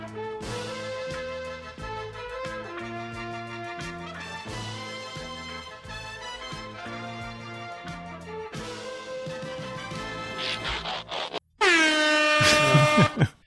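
A podcast air horn sound effect bursts out loud and brassy near the end, after a stretch of tonal, musical noise with no speech in it.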